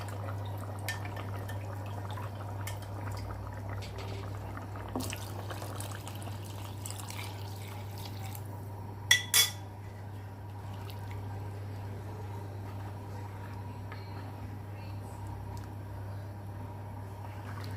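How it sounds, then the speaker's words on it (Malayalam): Coconut milk pours into a simmering Kerala-style prawn curry, a faint, soft liquid trickle and drip sitting over a steady low hum, with two brief sharper splashes midway. "ഇനി ഇതിലോട്ട് നമുക്ക് തേങ്ങാപ്പാൽ ചേർത്ത് കൊടുക്കാം"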